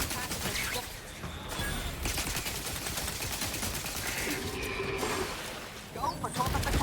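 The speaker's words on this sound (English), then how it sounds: "there's people shooting from this far?" Rapid bursts of gunfire from enemies in The Outer Worlds 2 crackle almost without pause, dense overlapping shots with a rough, busy texture that fills the whole stretch at a fairly steady loudness.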